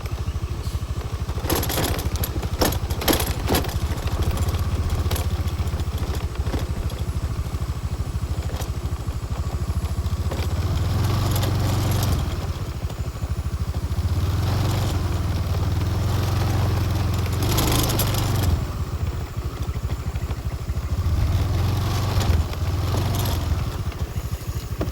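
A vehicle engine drones steadily while driving along a forest track, with bumps, rattles and clattering over rough ground and a low rumble that swells and fades across the run.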